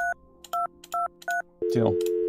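Keypad tones from a telephone in the point-and-click game Agent A, four short evenly spaced dialing beeps followed by a louder burst of synthetic noise, clear and close.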